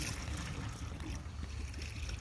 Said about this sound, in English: What we're gonna do is release this valve and the water will come out of here,